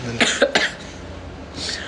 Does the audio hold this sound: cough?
yes